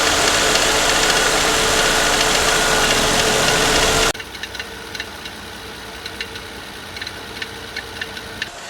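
Faulty Nissan Altima SR 3.5 engine with 181,000 miles, heard close up: a loud steady running drone that drops sharply in level partway through, leaving a quieter idle with repeated light ticking knocks.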